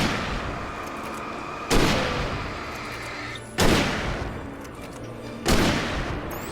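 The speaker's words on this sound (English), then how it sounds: "I thought the rifle would be much more powerful than this." Rifle shots ring out in the video game Alan Wake Remastered, three loud booming reports spaced about two seconds apart, each trailing off in a long rumbling decay over ambient game noise.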